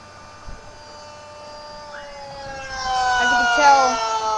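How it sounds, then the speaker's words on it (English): A tornado siren sound from an Android phone app swells up from quiet to a loud, steady wail over a few seconds, with a faint voice underneath. "Testing my tornado siren."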